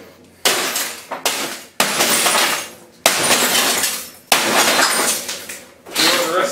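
A small CRT television is smashed, its glass breaking in several loud, separate crashes and shattering bursts, each trailing off into tinkling debris, close to the microphone.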